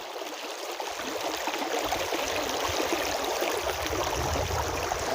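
A hillside stream in a mountain valley rushes steadily, a constant broad hiss of flowing water heard close and fairly loud throughout, with no voices.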